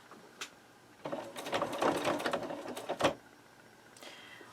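A household sewing machine runs in a short burst of rapid mechanical whirring and stitching for about two seconds, with a few clicks before it and after it.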